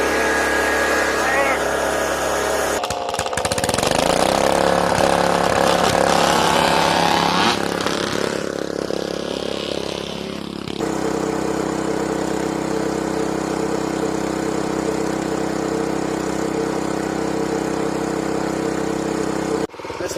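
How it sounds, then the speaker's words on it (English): A lawn mower with a faulty transmission runs loud and close. Its engine labours and strains with a harsh, rising whine, then settles into a steadier idle-like drone before cutting off abruptly near the end. "This lawnmower is very mad at me."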